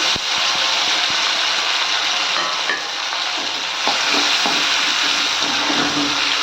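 Tomatoes sauté with onion and ginger garlic paste for chicken kola kuzhambu, making a loud, continuous frying sizzle with repeated scraping and clacking from the stirring spoon.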